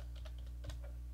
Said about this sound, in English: let's type in test.